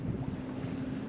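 Steady wind rushes past a sailboat under mainsail alone, leaving Villasimius for the Capitana marina in southern Sardinia, with a low broadband roar of buffeting air and water throughout, no voices.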